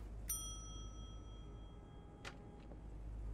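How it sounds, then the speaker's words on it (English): A single bright ding from a front desk service bell in The Wolf Among Us video game, ringing out and decaying over quiet room tone, followed by a fainter second chime. "Let's ring the bell."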